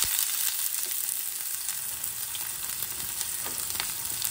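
Onion frying in hot mustard oil with fenugreek and cumin seeds, a steady close sizzle and crackle of okra fry at home, with faint stirring and no talk.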